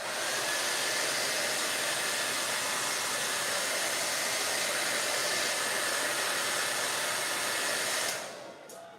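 A hair dryer blows steadily and loudly over a freshly painted canvas during a painting session, a continuous broadband whoosh that stops abruptly near the end.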